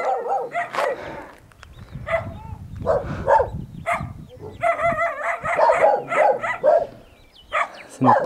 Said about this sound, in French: Les chiens qui nous courent après.